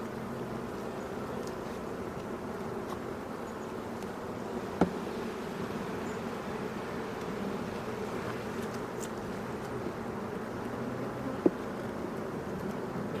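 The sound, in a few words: honeybees buzzing during WBC hive inspection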